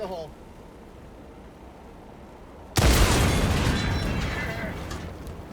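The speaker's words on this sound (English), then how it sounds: "You just open them with a grenade." A thrown grenade bursts in the Helldivers 2 video game to blow open supply containers, one sudden loud blast after quiet ambience, its roar and debris rumble slowly fading over several seconds.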